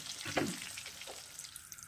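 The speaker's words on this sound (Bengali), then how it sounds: "দিয়ে এটাকে আমি হালকা ভেজে নেব" Eggplant fries in oil in a pan with a soft, crackling sizzle and a light stir scrape, quiet and close throughout the short moment.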